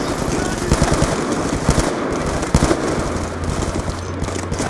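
Rapid automatic gunfire in the video game Black Ops 2, a dense stream of sharp shots over a continuous noisy battle backdrop, with a low rumbling hum joining near the end.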